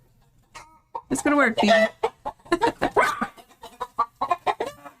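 Chickens cluck and squawk close by in a busy, uneven series of calls, with a person talking over and between them.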